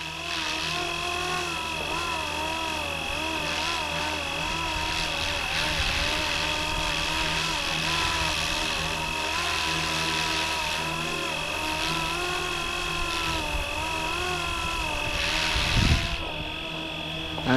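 A Fly Wing RC AirWolf model helicopter hovering outdoors in a light breeze, its steady high rotor and motor whine droning continuously at moderate distance, with a brief thump near the end.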